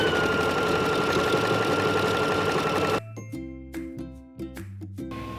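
A sewing machine whirs steadily while stitching around a circle on a bathing suit bottom, then stops abruptly, followed by a few soft tonal clinks.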